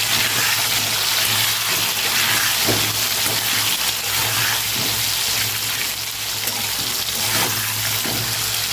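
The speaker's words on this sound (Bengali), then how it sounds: "তেলটা গরম হচ্ছে, এবার থেকে আলুগুলো ভেজে নেবো আগে।" Potatoes with salt and turmeric fry in hot oil in a home kitchen, giving a continuous loud hiss and sizzle that runs steadily throughout with faint crackles and no talking.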